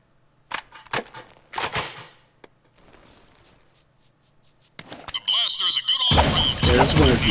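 Blaster gun fire in the video game Jak II, a few sharp scattered shots and snaps early on, then a loud rapid burst of shooting near the end, with game sounds in between.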